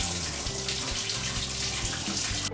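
Running water pours steadily over a whole watermelon as it is rinsed in a sink, a continuous close splashing wash with no voices.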